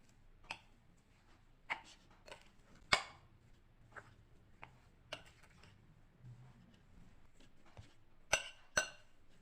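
A spoon clinks and scrapes against a bowl while potatoes and spices, including dry ginger powder and kasuri methi, are stirred together. The taps come close and sparse, with an irregular rhythm.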